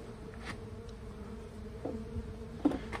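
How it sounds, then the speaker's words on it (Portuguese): Mandaçaia stingless bees buzzing as they leave a wooden hive box during a colony split, a close, steady droning hum with individual bees swelling briefly louder as they pass. "Olha aí como que tá saindo bastante abelhas."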